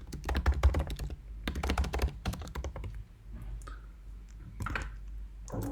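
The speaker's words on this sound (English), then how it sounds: "Type your message." Computer keyboard typing in quick bursts of clicks and taps, close and clear, with short pauses between runs of keystrokes.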